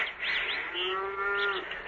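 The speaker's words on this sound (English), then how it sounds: "the cow's due for milking, too" A cow moos in a radio drama farm scene, one long drawn-out low call that rises and trails off, heard against a soft windy background with faint bird-like chirps.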